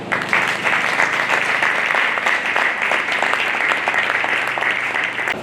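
A church congregation at a leaders' gathering applauds with steady, loud, dense clapping that fills the room and keeps the same level the whole time.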